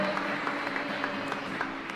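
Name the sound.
applause for a couple's 17th wedding anniversary at Mass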